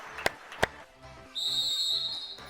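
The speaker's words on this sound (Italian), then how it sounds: "Fischio dell'arbitro." A referee's whistle starts an indoor futsal match with a sustained shrill blast over faint crowd noise, after two sharp taps.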